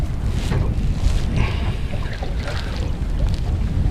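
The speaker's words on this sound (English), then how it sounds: "Got a little bit of wind against tide" Steady wind roaring across an open boat in a tidal channel, wind against tide, with dense low buffeting and rushing water noise throughout, no talking.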